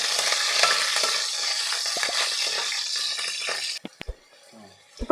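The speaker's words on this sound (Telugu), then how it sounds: "ఇలా కలుపుకుంటూ ఫ్రై చేసుకుందాం." Lentils and vegetables frying in a pan while being stirred with a ladle make a loud, continuous sizzle and scraping for nearly four seconds, then it cuts off, leaving a few sharp clacks of utensil against pan.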